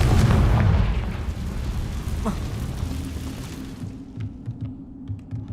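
A Confringo blasting spell goes off in Hogwarts Legacy, a loud booming burst at the start that rolls into a rumbling decay, with faint ticking game sounds trailing at the end.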